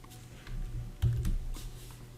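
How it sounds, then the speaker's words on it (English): Someone types a Java program on a computer keyboard, with soft, irregular key clicks close by and one louder thump partway through. "we will type a small Java program here"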